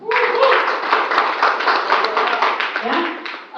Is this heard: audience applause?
yes